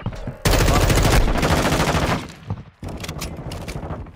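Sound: gunfire in a multiplayer shooter video game

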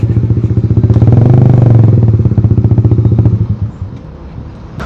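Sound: Honda CBR150R motorcycle with Daytona GP taper racing exhaust revving

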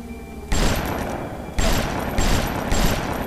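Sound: gunfire shooting in the video game Bioshock

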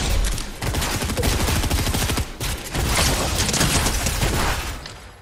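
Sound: gunfire in a video game

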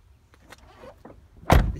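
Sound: Ford Transit Connect electric windows operating

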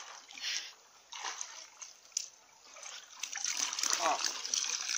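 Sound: water flowing out while emptying a well

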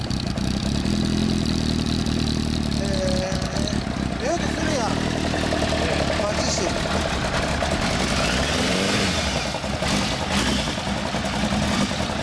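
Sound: Yamaha FZ750 motorcycle engine with Poison S1R exhaust

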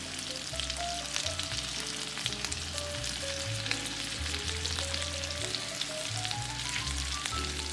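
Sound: mahi-mahi frying in melted butter in pan

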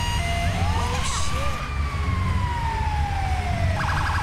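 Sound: emergency vehicle siren in video game

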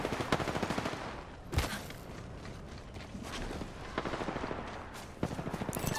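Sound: gunfire in Apex Legends video game

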